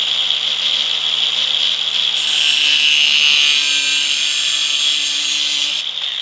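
Unguarded angle grinder cutting metal while a GMC grille is installed on a truck: a loud, steady high-pitched whine and grinding hiss that swells in the middle and holds for several seconds, heard alone.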